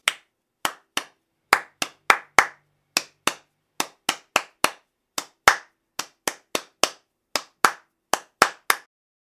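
Sharp, close hand claps repeating in an even syncopated calypso strum pattern, grouped in repeating cycles with brief pauses between beats, clean and alone with no voices.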